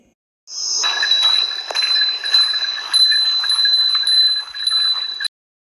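A bell jingles and rattles continuously for several seconds, bright and close, with a steady shaking rhythm.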